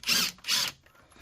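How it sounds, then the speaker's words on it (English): Power drill unscrewing transmission screws on a 2020 Nissan Titan 9-speed during a DIY repair, two short close whirring bursts of the driver spinning, then quiet. "So now we are unscrewing the four"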